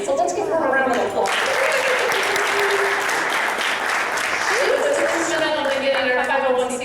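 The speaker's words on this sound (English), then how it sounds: "let's give her a round of applause" A crowd at a charity presentation gives sustained, even applause for several seconds, the clapping close and full, while a voice talks over it at the start and near the end.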